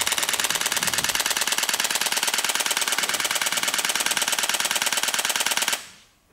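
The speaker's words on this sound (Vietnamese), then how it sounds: "ta có thể chụp tới 10 khung hình nhân giây và nó giã cũng như súng liên thanh vậy" A Sony A7C full-frame camera fires its shutter in continuous burst mode, a rapid, even machine-gun stream of crisp clicks at close range for about six seconds before stopping abruptly.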